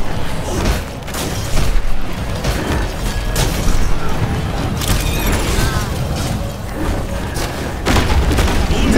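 A grenade blast in the video game Minion Masters: dense, loud booming impacts and crashing battle noise run throughout, with a few sharper bursts near the start and end.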